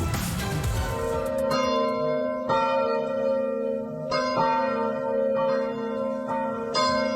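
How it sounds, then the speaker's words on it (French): A carillon of church bells rings out in a steady, resonant sequence, each strike leaving long ringing overtones that overlap. "Le carillon sonne sur Sud Radio, André Berkoff"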